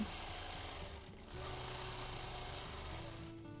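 A sewing machine runs steadily through free-motion quilting, a continuous close mechanical whir with a brief dip in pace partway through, then resuming at even speed.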